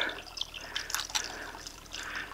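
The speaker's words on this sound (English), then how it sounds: "I'm basically standing in a stream right now." Mountain stream water flowing and trickling near the top of a high, windy climb beside a waterfall, a steady close wash of broadband splashing with brief brighter drips and gurgles, no talk.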